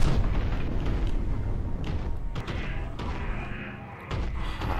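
Heavy booming cannon blasts in a first-person shooter video game roll over one another in a dense, rumbling barrage, loud and close, with a brief dip before more firing resumes.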